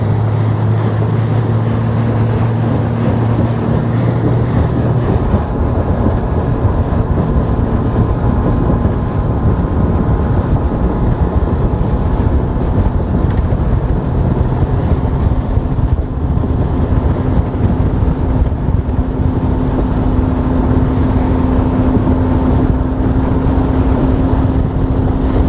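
A motorboat cruises on a lake during bass fishing, its engine a loud, steady drone throughout, mixed with strong wind buffeting the microphone and the rush of water, with no talking.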